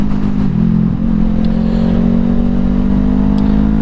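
A Honda CBR500R rides through city streets, its engine droning loud and steady from close by with a constant low hum and wind rush, fitted with a Honda OEM windscreen.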